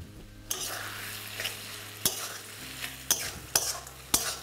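Sliced tomatoes salted and frying in oil keep up a steady sizzle while a utensil stirs them, scraping against the pan in several sharp, distinct strokes spaced about half a second to a second apart.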